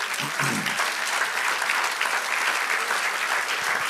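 A church congregation breaks into steady, dense applause during a sermon, the clapping loud and sustained from start to finish with no pauses.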